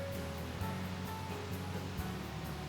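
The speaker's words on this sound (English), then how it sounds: "It's like white noise listening to that river." A river in the Mourne Mountains of Northern Ireland at a wild camping spot, a quiet, constant white-noise rush of flowing water heard alone from a short distance.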